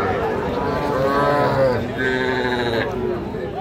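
Young cattle calves at a busy livestock market moo loudly in long drawn-out calls, one after another, over a background of crowd noise.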